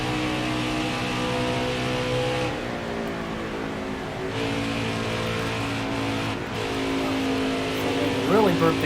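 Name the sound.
race car engine throttle blip, NASCAR Heat 5 video game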